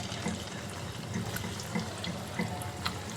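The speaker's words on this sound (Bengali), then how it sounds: "এবার আমি তেলের মধ্যে কোপ্তাগুলো ছাড়ছি।" Koftas fry in hot oil with a faint, steady sizzle and scattered small pops and crackles, heard quietly and alone.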